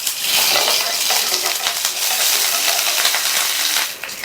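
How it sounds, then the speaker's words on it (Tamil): Curry leaves and cut dried chili frying in hot oil for a spicy carrot fry, a loud, steady crackling sizzle throughout with light stirring clicks, no talking. "இது கூட கறிவேப்பிலை, ஒரு கட் பண்ண காஞ்ச மிளகாய்"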